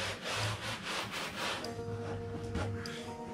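A sponge is rubbed back and forth with dye across a car headliner, giving a quick rhythmic scrubbing and swishing close by, with a few soft squeaks and rustles toward the end.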